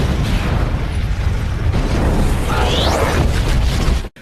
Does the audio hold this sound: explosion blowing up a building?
yes